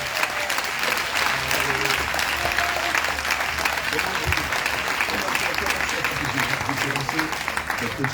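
A church congregation bursts into sustained applause, many hands clapping steadily for the whole stretch, with voices mixed in beneath.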